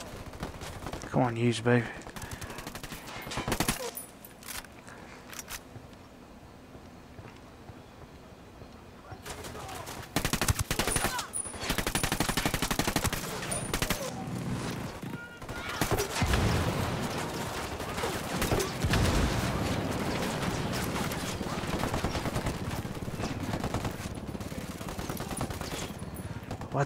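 Gunfire from the video game Ghost Recon Wildlands cracks in scattered shots and rapid bursts over about half a minute, with someone talking over the shooting.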